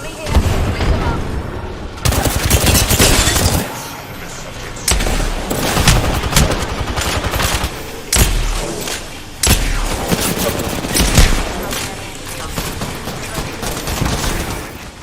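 Intense video game firefight with bursts of automatic gunfire and heavy booming impacts, loud and near, coming in waves with brief gaps, while voices talk over the shooting.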